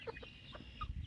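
Chickens in a backyard chicken tractor give a few quick, soft clucks in a brief burst, faint and close with no talk over them.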